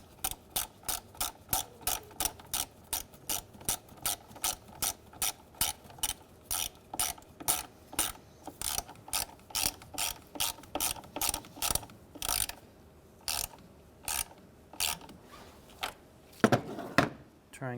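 A ratchet tightening the battery negative terminal nut on a Honda Element, a loud, steady run of close-up pawl clicks in quick even strokes with brief pauses, ending in a few heavier knocks.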